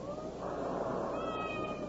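A cat meows in a kitchen in an old radio drama, one drawn-out, plaintive call rising and wavering against a hushed room, heard alone with no talk.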